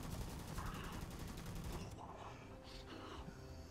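Rapid repeater rifle fire in a video game crackles in a fast burst of close shots, then gives way to fainter scattered gunfire and game ambience.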